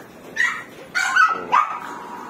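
Several sharp, high yips and barks from a dog, Jack Russell type, playing outdoors in the rain, three separate bursts at close range over a soft background hiss.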